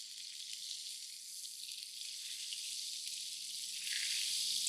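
Beef fillet sears in a hot pan for a Wellington, giving a steady, close hiss of sizzling fat that swells slightly louder near the end, with no voices.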